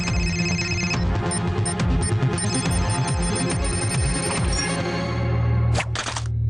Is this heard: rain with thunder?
no